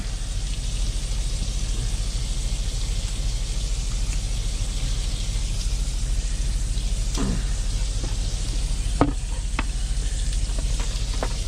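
Bacon and potatoes frying in a pan in a truck cab kitchen, a loud, constant dense sizzle like heavy rain, with a few scrapes and clicks from stirring late on.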